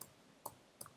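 Key presses on a computer keyboard in a Linux terminal: three faint, sharp clicks spaced about half a second apart, alone in a quiet room.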